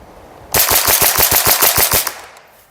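A Grand Power Stribog TR22 firing TAC22 subsonic .22 ammunition, a rapid even string of about ten sharp shots, close and loud with a short echoing tail and no talk.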